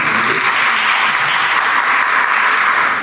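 A corporate governance panel audience claps loudly and continuously for a speaker being introduced, a thick uniform roar of many hands with no voices over it.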